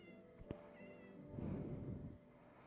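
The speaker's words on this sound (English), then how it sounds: "I heard you, Mr. Kitty." A cat meows a few times close by, one short call and then a longer drawn-out meow, against a quiet room.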